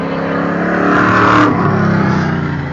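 A race car with its rear bumper missing comes in at a Waterford Hills Big Bore Bash exhibition race, its engine loud and close, rising to a roaring peak before easing off with a steady drone.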